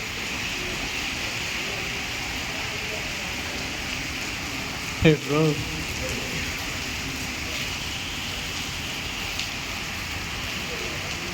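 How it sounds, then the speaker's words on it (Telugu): Heavy rain pours down steadily in Dubai, a dense continuous hiss of water drumming on surfaces throughout, with a brief spoken word and a short burst of closer activity partway through. "ఇదేం వర్షం బాబు"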